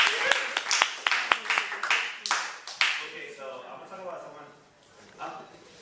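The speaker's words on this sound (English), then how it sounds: "Let's give Edwin a round of applause." A short burst of clapping from a small group of students after a class presentation, scattered and uneven, fading out after a few seconds.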